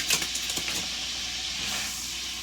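A stick of butter sizzles and hisses steadily as it melts into hot sausage grease in a pan, a soft continuous frying hiss after a few faint clinks.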